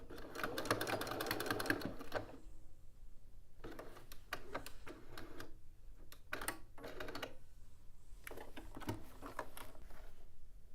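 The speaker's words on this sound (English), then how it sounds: "now we're going to stitch along this top edge here." A home sewing machine stitches along the top edge of a garment in several close bursts of rapid mechanical whirring, separated by short pauses.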